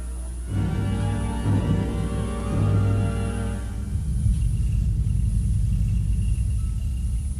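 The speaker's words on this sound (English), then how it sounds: "here comes the thunder" Deep, sustained rumbling like thunder rolls steadily throughout, low and heavy with no speech.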